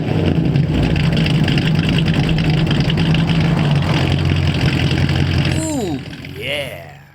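A 1963 Studebaker Avanti R2 engine runs at a steady, loud, throaty idle, close by, then briefly quiets near the end, with a voice speaking over it.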